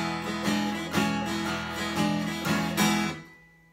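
A Walden G740 acoustic guitar strummed loudly in a steady rhythm of about six bright chord strokes, each ringing before the next, then fading out at the end with no voices.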